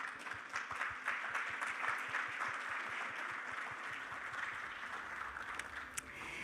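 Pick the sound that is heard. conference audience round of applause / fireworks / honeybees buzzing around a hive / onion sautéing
conference audience round of applause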